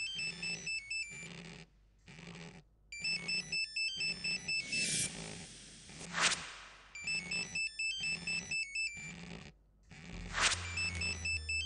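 A mobile phone ringtone repeats a bright electronic melody in regular bursts with short gaps, moderately loud and steady, interrupted now and then by a louder sweep of noise.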